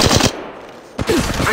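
Automatic weapon fire in the Apex Legends Mobile battle game: a loud, close burst of rapid shots, a short lull, then another dense burst, with a voice calling out briefly.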